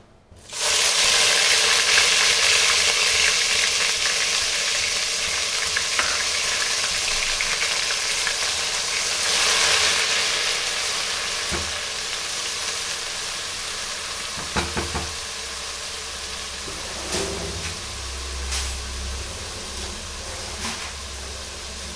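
Onion paste fries in a pan with a loud, continuous sizzle for Goan chicken kheema, with a crackling hiss that softens slightly as it goes on and occasional stirring scrapes and clinks, no voices.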